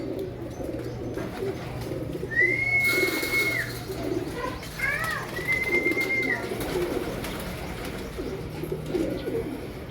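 Racing pigeons arriving at a loft coo softly in a steady low murmur, with a couple of brief whistling tones and light rustling, heard close by without talk.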